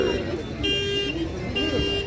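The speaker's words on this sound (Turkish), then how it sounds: "araban alarm ötüyor" A car alarm wails nearby with a repeating warbling tone, steady and fairly loud, with traffic-like rumble underneath.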